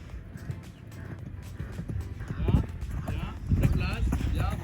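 Horse hooves striking the ground during a riding lesson at an equestrian centre, rhythmic clip-clop beats picking up toward a gallop, close and steady, with an instructor's voice talking over the footfalls.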